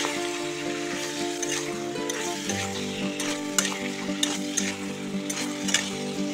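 Local chicken with spices and coriander sizzles steadily in a pan, with scraping and stirring clicks of a spoon over the continuous frying hiss, close and fairly loud with no talk.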